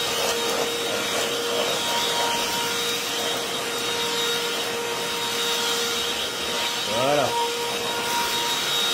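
A Moulinex X-Pert 160 cordless stick vacuum cleaner runs with a steady whining hum and a constant tonal drone, close to the microphone, while a voice speaks briefly near the end.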